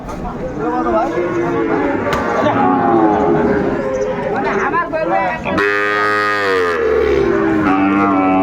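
A Sahiwal bull calf lowing at a busy cattle market, loud drawn-out moos close by, the last one long and strong, with people talking throughout beneath and around the calls.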